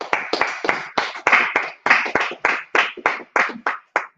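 A congregation claps in steady rhythm at a Feast of First Fruits gathering, a dozen loud, evenly spaced bursts of many hands together, with no talking over them.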